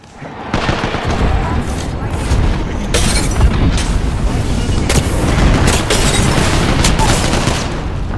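Gunfire and explosions from the Apex Legends video game burst out in a loud, dense run of sharp shots and booms that repeat irregularly, with a voice talking over the action.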